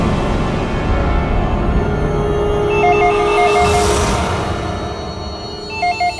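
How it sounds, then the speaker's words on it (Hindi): Telephone ringing in a crime drama scene, a repeated electronic ring pattern over a loud, dense background of music and room noise, with no talk. "तो भी फोन उठाओ"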